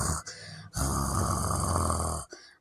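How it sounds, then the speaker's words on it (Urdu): A wolf snoring in deep sleep: a long, loud rasping snore with short breaths before and after, close and alone with no talk. "بھیڑیا سو رہا تھا اور اتنی گہری نیند سو رہا تھا، خراٹے لے کے"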